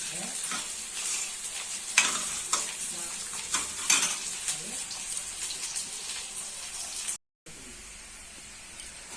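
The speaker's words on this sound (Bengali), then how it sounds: "যে পেঁয়াজগুলো ভাজা ভাজা হয়ে গেছে লাল হয়ে গেছে" Onions frying until browned in a pan, a low steady sizzle broken by spatula scrapes and clacks, with a brief cut to silence near the end.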